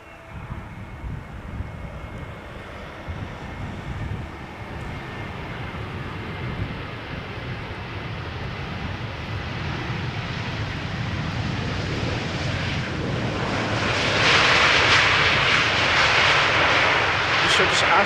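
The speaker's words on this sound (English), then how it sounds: "Next up, EasyJet A320neo arriving from Prague in the Czech Republic." Easyjet A320neo airliner arriving at Schiphol's Polderbaan runway after a flight from Prague, a steady broadband engine roar that builds and grows louder toward the end as it approaches, with a faint voice underneath.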